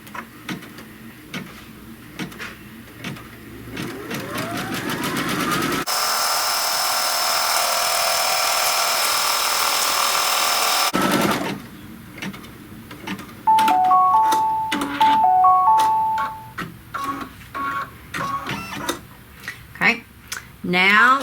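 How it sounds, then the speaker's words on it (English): An embroidery machine stitching a tack-down line to hold the lining of a butterfly cinch sack, running as a steady mechanical whir with rapid needle ticking, broken by pauses, clicks and a few short beeps, with a person talking at times. "now it's going to stitch the tack down to hold that lining in place."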